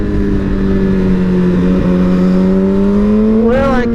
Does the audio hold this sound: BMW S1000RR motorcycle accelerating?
yes